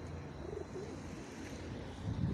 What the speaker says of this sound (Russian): Все там возле мусорника воркуют,